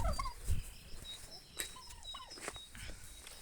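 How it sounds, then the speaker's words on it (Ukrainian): A turkey offered for sale on a farm gobbles in a quick rattling burst near the start, followed by short calls and chirps from other fowl against a quiet outdoor background. "Індик дуже великий, досить такий."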